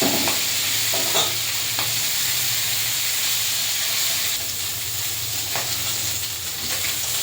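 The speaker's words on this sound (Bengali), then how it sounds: "ট্যাংরা মাছগুলো ভাজা হয়ে গেছে" Tangra fish frying in hot oil for a spicy potato curry, giving a steady, loud sizzle with a constant hiss and occasional stirring clatter, close up with no voices.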